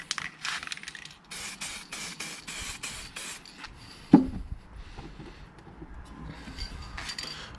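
A spray can hisses in a series of short, even bursts as light coats go onto a primered motorcycle part, followed by a clink and a longer softer spray near the end.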